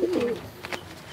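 A Chennai-breed pigeon coos softly nearby in a loft, one short low throaty call standing alone.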